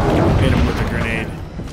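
A grenade blast in Halo 5: Guardians: a loud, heavy boom rolls through the first second and then tails off, with a player's voice heard over the game.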